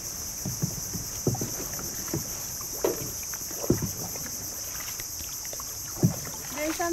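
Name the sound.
boat on water in mangrove forest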